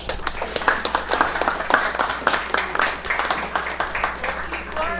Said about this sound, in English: let's give a round of applause to Dan.